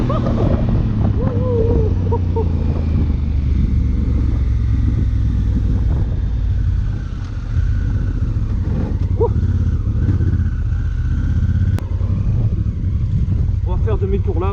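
A 2016 Honda Africa Twin motorcycle engine drones loud and steady on the road, with heavy wind rush over the microphone and only slight rises in pitch; a voice talks briefly near the end.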